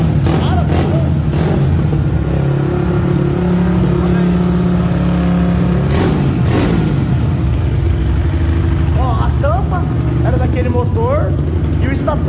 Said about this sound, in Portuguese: esse é o motor que tá tanto falado no Brasil aí, mano